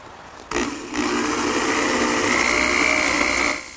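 A power drill whirs up sharply and grinds steadily through wood into scrap underneath for about three seconds, close and loud, then winds down.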